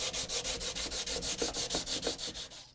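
Steady back-and-forth rasping of sandpaper on a wooden guitar neck, close and loud, in an even rhythm of about a dozen strokes with no talking.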